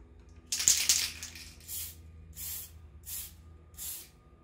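Spray paint hisses from an aerosol can onto a clear Lexan RC car body in short bursts: one longer spray followed by four evenly spaced shorter passes, close and fairly loud, with no talking.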